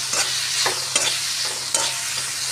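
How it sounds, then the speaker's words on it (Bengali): Spices with turmeric sauté in hot oil in a pan, giving a loud continuous sizzle broken by repeated spatula scrapes every half second or so, close up with no voices. "এবারে একটু কষিয়ে নিই"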